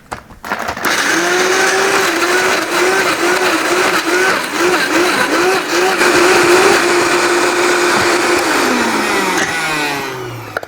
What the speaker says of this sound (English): I'm gonna go put about 2 cups of ice in the blender and blend.